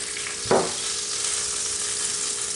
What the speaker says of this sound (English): It's popping. I'm getting little bits of oil landing on this arm here.